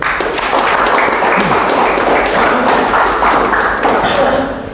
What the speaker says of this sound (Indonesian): Bagus, tepuk tangan ya